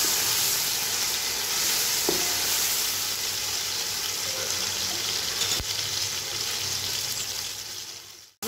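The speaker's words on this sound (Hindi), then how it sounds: "अपना मसाला अच्छे से भून लेंगे।" Masala with tomato, red chili, garlic-ginger paste and salt fries in a pan for layered beef biryani, giving a continuous loud hissing sizzle with occasional faint scrapes of stirring, ending abruptly.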